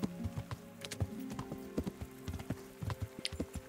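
A horse clip-clops along a path in the video game Kingdom Come: Deliverance, with clear rhythmic hoofbeats over a steady tonal game background and no talk.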